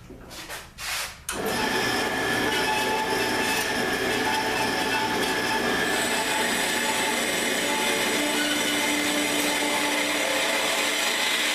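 Metal tube being trimmed to a square cut with a power saw: after a brief pause, a loud continuous grinding, whining cut begins and runs steadily to the end.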